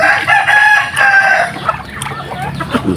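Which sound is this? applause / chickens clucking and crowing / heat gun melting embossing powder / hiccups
chickens clucking and crowing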